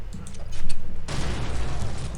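Rapid automatic gunfire in Call of Duty 4: Modern Warfare, a fast steady rattle of shots that grows denser and brighter partway through.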